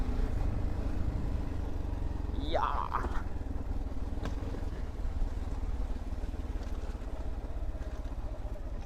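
A motorcycle engine idles with a steady, low, close rumble, broken near the middle by a brief rising whine.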